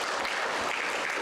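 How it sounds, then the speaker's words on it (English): Dense, steady applause from a congregation during a flower communion church service, filling the whole short stretch at an even level with no voices over it. "Let's give Aunt Sandra a round of applause."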